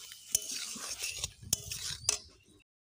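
Eggplant mutton-style gravy is stirred in a pan over medium-low heat, a close, scraping shuffle punctuated by three sharp spoon taps on the pan's rim, with no talking.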